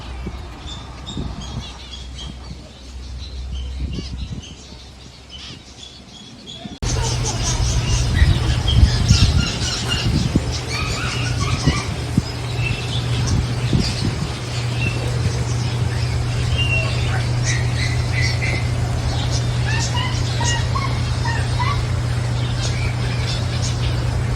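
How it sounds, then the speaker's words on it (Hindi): Birds in an aviary at a Madinah zoo squawk and chatter continuously while eating grain from an open hand, a dense, close flock sound that grows louder after a few seconds. "जैसे ही हम दाना अपनी हथेली पे रखते हैं तो माशाल्लाह चिड़ियाँ बहुत स्पीड में आती हैं"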